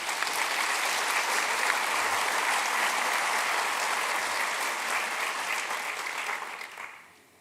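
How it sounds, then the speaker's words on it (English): Audience applause for award winners at an innovators awards of excellence ceremony, a steady, dense clapping from a large crowd that holds evenly for about six seconds before tapering off and fading out at the end. "let's give them a big round of applause again."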